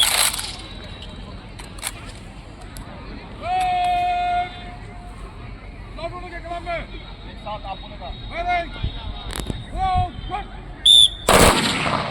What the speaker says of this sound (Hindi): प्लाटून 1, प्लाटून 2, प्लाटून नंबर 3 एक साथ फायरिंग आप लोग सुन चुके हैं